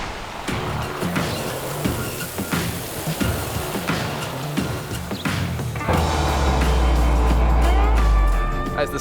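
A car drives through dense Daintree rainforest toward the Cape Tribulation beaches, tyres and engine rumbling over the road with bumps and knocks, the low engine hum swelling louder in the final seconds.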